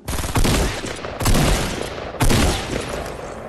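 Three loud, booming shotgun blasts ring out in a video game match, each about a second apart with a short decaying tail, no voices over them.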